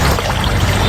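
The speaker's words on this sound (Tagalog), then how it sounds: "sisimulan ko nang alisin ang tubig dito sa loob" Water pours out of a muddy bathing pool dug beside a creek, with a loud, steady, close rush of flow that lasts only a moment.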